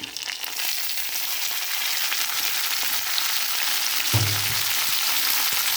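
Dried red chillies and mint fry in a pan with a steady, close crackling sizzle throughout, and a brief stirring scrape near the end.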